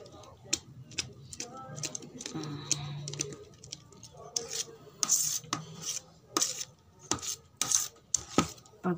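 Miracle fruit juice is stirred by hand in a container, giving soft scraping and clinking taps of a utensil against the vessel in an irregular rhythm, close but quiet.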